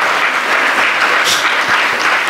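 Loud, dense applause from a school audience at an investiture ceremony, a continuous close wash of clapping lasting a couple of seconds with no voices over it.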